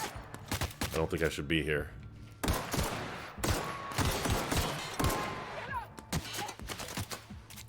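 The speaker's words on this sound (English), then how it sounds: "Is that a turret? Now, the weapon sounds do kind of lack oomph." Turret gunfire in the video game The Outer Worlds: rapid bursts of shots rattling through the scene in uneven volleys, with someone talking over much of it.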